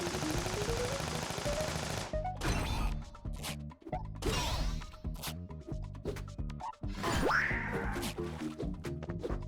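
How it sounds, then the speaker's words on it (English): A chain gun fires in the YIIK video game, a loud rapid rattling burst with heavy repeated impacts and crashing hits, layered over busy game music. "Chain gun him."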